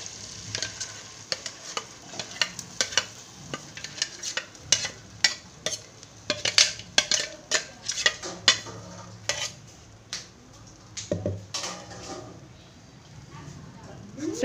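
Masala paste fries in butter on a high flame for paneer butter masala while a utensil stirs it, giving rapid, irregular scraping clacks over a steady sizzle. A voice talks in places.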